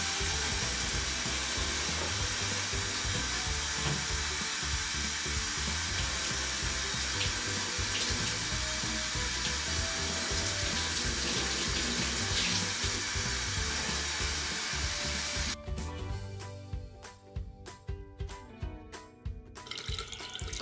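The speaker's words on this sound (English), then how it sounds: "I'm about to go literally spray myself in the face with the shower." A shower sprays water onto a face in a steady loud hiss that runs for most of the clip, then breaks into uneven splashing bursts as the stream is interrupted.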